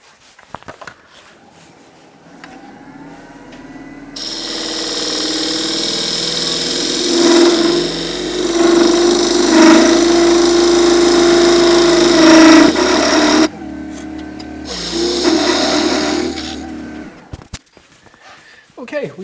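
A wood lathe turns an Irish ash natural-edge bowl as a tool cuts the tenon, producing a loud rising whine and rough scraping that builds, holds for several seconds, then cuts off abruptly, with someone talking before and after.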